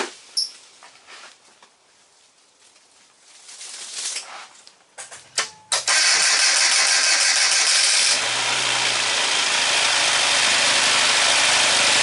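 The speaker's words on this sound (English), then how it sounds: "Let's give it a whirl, see if it fires up." A Mini Cooper engine, fresh spark plugs just fitted, cranks with a few short bursts, then catches and settles into a steady, loud, close-up idle that runs on to the end with no talk.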